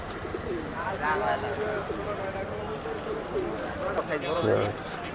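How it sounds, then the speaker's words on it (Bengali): Pigeons coo in low, throaty bursts close by at a pigeon market in Tongi, with people talking over them and some background bustle. "এটা হচ্ছে মাদি কবুতর"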